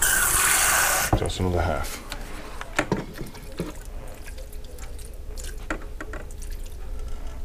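Water pours into an Aicok pressure cooker, giving a loud steady gush for about a second, then scattered drips and light clinks while a person talks.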